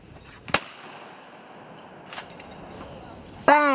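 Shotgun fired at a clay trap target at a shooting camp, a single sharp loud blast near the start, followed by quieter outdoor noise, a small knock and another sharp burst at the end.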